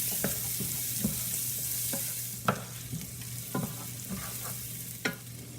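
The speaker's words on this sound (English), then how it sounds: "You're going to saute them for about 3 to 4 minutes until they are translucent." Onions sautéing in a saucepan, a steady soft sizzle with a spoon scraping and stirring in irregular clicks, close and fairly quiet, with a faint low hum throughout.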